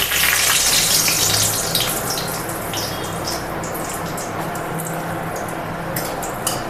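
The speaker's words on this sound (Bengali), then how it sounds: "তেল গরম হয়ে গেছে এর মধ্যে আমি দেব শুকনো লঙ্কা ফোড়ন" Dried red chillies hit hot oil in a pan, giving a loud burst of sizzling that settles into a steady, crackling fry, close up with no talking.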